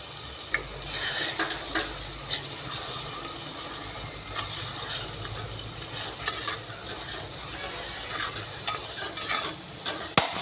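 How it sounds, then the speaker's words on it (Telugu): Onions sizzle steadily while frying in a covered pan as they are browned for a Godavari-style fish curry, with occasional clinks and scrapes from stirring; no voices, a close and continuous sound. "మూత పెట్టుకొని బ్రౌన్ కలర్ అంతా వచ్చే వరకు వేయించుకోవాలి"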